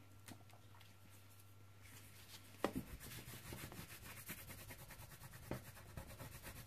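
Glue being rubbed off a surface by hand during a Christmas craft project, a soft continuous scratchy rubbing with a few sharper knocks, close and fairly quiet.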